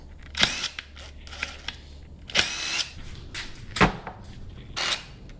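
A power tool works bolts loose on a Honda dirt bike brake line, sounding in several short bursts separated by pauses and faint clicks and handling noises.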